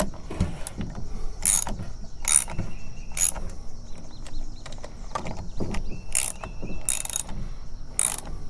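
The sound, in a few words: tightening carburetor on Poulan Wild Thing chainsaw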